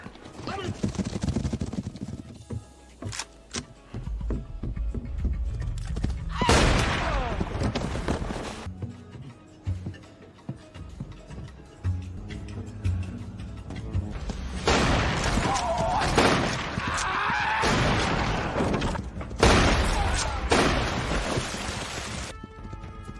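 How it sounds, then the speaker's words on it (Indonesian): A western film shootout plays out with sharp gunshot bangs and bursts over horse hoofbeats, whinnies and a dramatic music score, with voices talking in places. "dia mampu mengalahkan beberapa anak buah Tibero dengan keahliannya yang menembak"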